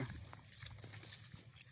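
A farm horse's hooves clop in an uneven series of soft, dull knocks over a hissing outdoor background, fairly faint and with no talking.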